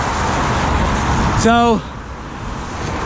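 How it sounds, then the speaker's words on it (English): Cars pass on a road in wet, rainy moorland weather, giving a steady broad rush of traffic and road noise that ends abruptly. A man's brief spoken word cuts through the noise. "Just let these cars go past."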